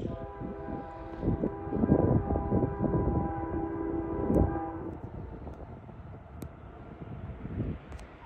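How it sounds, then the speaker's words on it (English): A westbound Union Pacific freight Z-train led by UP #7685 rolls through Millsap, Texas, in the rain, sounding loud sustained horn blasts over a heavy rumble that continues as the train passes close by. "Z-Train coming."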